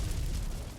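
Fireball spell striking a tower in the video game Clash Royale, a brief, muffled low boom that fades quickly, with no speech.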